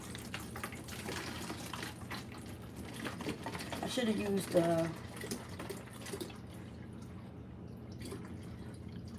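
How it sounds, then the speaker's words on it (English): Water mixed with plant food trickles and splashes into a container in a sink, a steady running pour that swells briefly, with a voice speaking over it. "take this water that I did with the plant food, and I'm going to fill this up"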